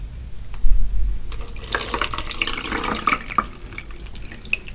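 Tap water runs steadily into a sink or bowl while gluten-free butter pie crust dough is made, a constant splashing stream that swells and fades, with a low hum underneath and no voices.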